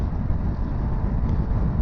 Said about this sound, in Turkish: Epeyce bir rüzgar var.